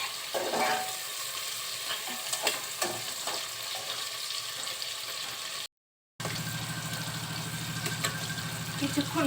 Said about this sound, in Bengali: এগুলো আমি খুব অল্প সময়ের জন্য একটু ভেজে নিব।